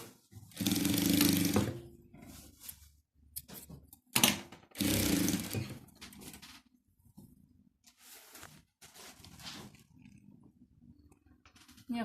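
A sewing machine stitches ribbon onto a quilt in short bursts, loud close whirring runs separated by pauses and small handling clicks, with no one talking.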